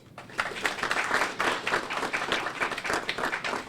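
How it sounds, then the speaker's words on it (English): Audience applauding at a news conference on an audit closure, a steady wash of many hands clapping at moderate level, fairly even throughout with a slight swell in the middle. "Please join me in applauding President Emeritus William Harris, former board chair Elton Dean,"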